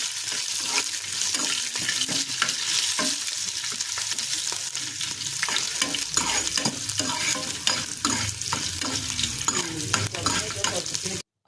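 Mustard seeds splutter and pop steadily in hot oil while tempering for sajja pulihora, a loud, continuous crackling sizzle with frequent sharp pops close by, then a sudden cutoff.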